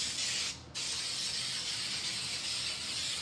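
Cooking spray gets a quick, short burst onto a pan for keto pancakes, then a steady broadband hiss carries on close by without any talk.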